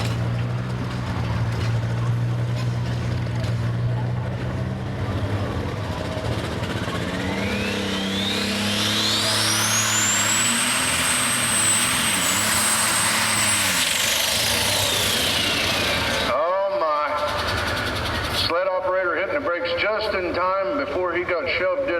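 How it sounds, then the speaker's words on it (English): A Case IH super stock tractor at a summer truck and tractor pull revs hard, its engine note climbing to a loud, high scream that holds and then falls, followed by choppy bursts, with an announcer talking throughout. "Wait till you hear the RPMs. Super stock Case IH power."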